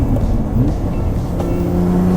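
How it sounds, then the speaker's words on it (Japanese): Intake sound from a Lotus Evora with a modified air cleaner, a steady loud engine drone heard from inside the car with a rising tone as it pulls, no talking. "エアクリも変わってるんで吸気音が左から多少はかなり聞こえますね"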